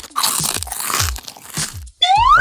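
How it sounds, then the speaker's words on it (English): Sandwich-biting sound effect: four crisp, close crunching bites in quick succession, then a brief cartoonish springy boing at the end. "Like when a character eats a sandwich."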